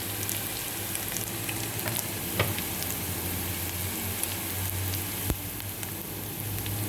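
Chopped garlic and ginger fry in oil over medium heat for a prawn curry, giving a steady, close sizzle with occasional small pops and crackles throughout, no talking.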